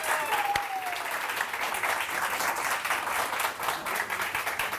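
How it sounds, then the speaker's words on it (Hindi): Applause from a studio audience on a Pakistani morning show: steady, even clapping from a crowd, fairly soft and continuous for several seconds, with one faint tonal chirp near the start. "एक बार फिर अपने लिए तालियां"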